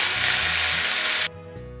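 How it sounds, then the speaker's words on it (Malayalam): Chicken tikka sticks laid on a hot dosa griddle give a loud, dense sizzle for just over a second, then drop abruptly to a quieter, steady frying hiss. "ചിക്കൻ്റെ ടിക്ക സ്റ്റിക്സ് ഇതിനകത്തോട്ട് ഇങ്ങനെ ഞാൻ വെച്ച് കൊടുത്തിട്ട് സിമ്മിലാക്കുകയാണ് ചെയ്യുക"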